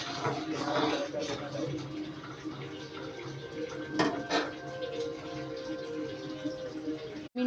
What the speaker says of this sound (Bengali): দেখো ডালটা ফুটছে।